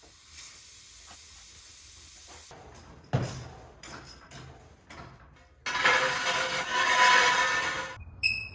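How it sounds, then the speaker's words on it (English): Refrigerant hissing as it is bled from the AC system of a 2007 Chevy, a steady hiss that cuts off, then clicks and handling noises, and a loud rushing burst of gas released close by. "we need to take this cap off and bleed the refrigerant out of the system"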